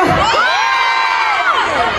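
Loud, close crowd of concert fans at a music festival in Angeles, Pampanga shouting and cheering in sustained high-pitched screams, a dense wall of voices with no single speaker.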